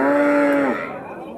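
A large dairy cow at the Kuti Chowmuhani cattle market gives one loud, close moo that holds steady and then slides down and fades into faint background murmur.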